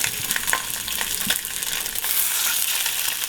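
Thin-cut chicken breast sears in hot oil in a pan, giving a loud, continuous sizzle and crackle with a few sharper pops, close up and with no voices.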